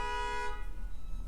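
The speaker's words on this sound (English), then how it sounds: "So much honking." A car horn blares in traffic outside, a steady held tone that cuts off after half a second and leaves a low muffled street rumble.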